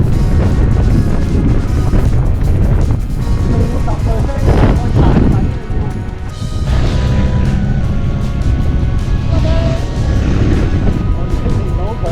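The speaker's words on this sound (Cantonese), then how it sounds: "我哋見到佢大風啊！" Strong wind on the crater rim of Mount Aso buffets the microphone the whole time, a loud and continuous roaring rumble with gusts rising and falling and no speech.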